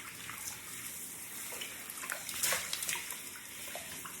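Water runs steadily from a tap or shower while curly hair is rinsed, a soft continuous splashing hiss with small fluctuations, fairly quiet and with no talk.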